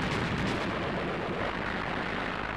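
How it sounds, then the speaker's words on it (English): Artillery bombardment on a World War II North African battlefield, a continuous loud roar of rumbling, overlapping blasts with no distinct gaps, heard without any talk. "Under cover of the bombardment, Allied engineers moved forward to clear paths through the Axis minefields."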